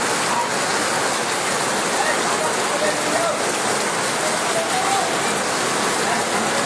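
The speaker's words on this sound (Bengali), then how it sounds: "এই মুহূর্তে যে বৃষ্টি হচ্ছে, বৃষ্টির ছবিটা আপনাদেরকে তুলে ধরছি" Heavy downpour with wind across Deganga, a loud, continuous, dense roar of rain on surfaces that stays even and unbroken throughout, with no voices.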